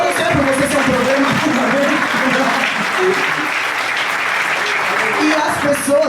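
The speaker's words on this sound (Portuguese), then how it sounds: "Aplauda o Senhor por você ser um problema" Church congregation applauding during a sermon, sustained crowd clapping under voices and a preacher speaking loudly over it.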